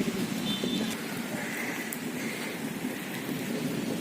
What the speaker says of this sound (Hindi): हल्की बारिश आ रही है